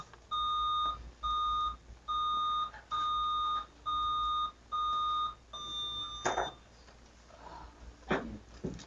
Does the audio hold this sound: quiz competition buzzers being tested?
yes